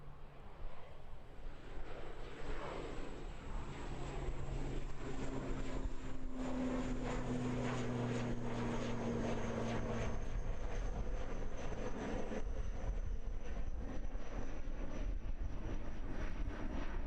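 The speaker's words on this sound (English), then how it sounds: "Wow, landing gear went up quickly on that one." An airliner climbing out after departure from Christchurch Airport, New Zealand, bound for Dunedin, makes a steady, sustained jet roar that swells and holds as it climbs away, with no voices.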